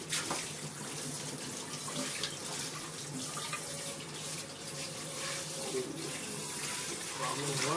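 A kitchen tap runs steadily as a non-stick pan is washed beneath it, a continuous close hiss of splashing water with faint clatter throughout.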